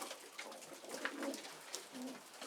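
Pigeons coo softly in a loft, with several low, murmuring calls overlapping at a moderate distance and no talk.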